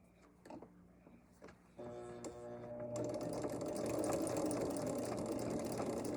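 A sewing machine stitches fabric for a table runner. A few quiet clicks come first, then the motor starts with a steady whir and grows into a loud, continuous close-up run.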